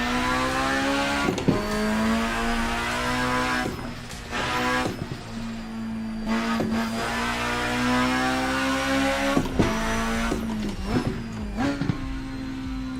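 A car in a racing simulator game revving hard with turbo, the engine note climbing and dropping through shifts, with sharp exhaust pops crackling between, loud and continuous.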